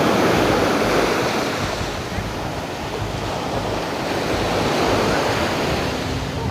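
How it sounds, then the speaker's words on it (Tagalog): Steady roar of ocean surf washing in, broad and continuous with a gusty, wind-buffeted edge, no voices. "Yan ang alon eh"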